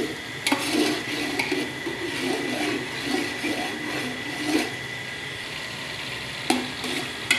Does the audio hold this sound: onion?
yes